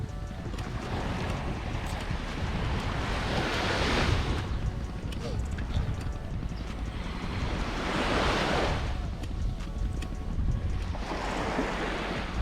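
Ocean waves surge and break on Empu Rancak Beach in Jepara, Indonesia, in slow swells, with wind buffeting the microphone throughout.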